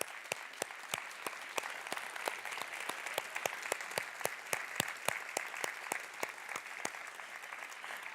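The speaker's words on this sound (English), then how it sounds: "please help me give them a warm round of applause" An audience at a game-industry conference gives a warm round of applause, with dense, steady clapping from a sizable crowd that carries on evenly without a break.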